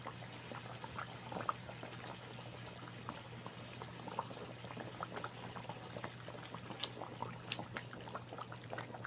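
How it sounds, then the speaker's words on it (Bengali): Pieces of katla fish go one by one into a simmering Bengali gravy with potatoes, the pot bubbling softly and steadily with small liquid pops and faint splashes, no voices. "এবারে একে একে মাছগুলো আমি দিয়ে দেবো"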